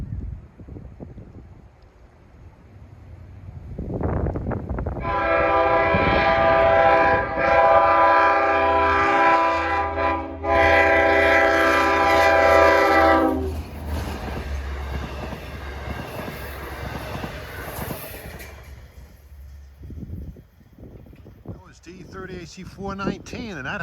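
A Montauk Branch train approaches and passes close by, sounding a loud, sustained K5LL chord horn for several seconds amid rumbling wheels, then continues past with a lingering roar as it fades.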